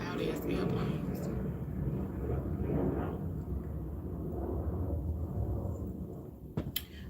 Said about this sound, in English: Here come all these loud ass airplanes.